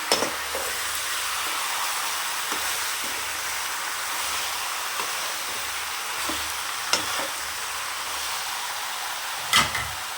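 Chicken gravy frying and sizzling in a pan, with a steady bright hiss throughout and a few short scraping stirs of a spoon standing out near the end.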